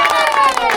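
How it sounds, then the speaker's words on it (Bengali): Crowd clapping for joint winners at a village horse race competition in West Bengal, a dense patter of applause filling the brief moment, steady and fairly close. "হাততালি সবাই।"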